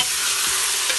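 Brief, steady close sizzle of beans, potato, carrot and frozen peas frying in a pan, with a faint stir partway through.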